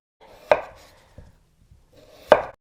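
A knife cuts through a raw potato being prepared for fries and strikes the cutting board twice, two sharp, close chops about two seconds apart in a quiet kitchen.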